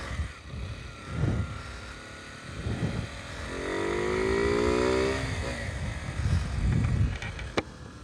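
A 2020 SWM Varez 125 motorcycle with an Arrow exhaust roars while riding, its engine rising in a sustained rev over rumbling road and wind noise, with a sharp click near the end.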